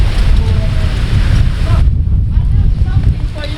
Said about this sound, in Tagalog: Ganitong hangin, may parating na bagyo.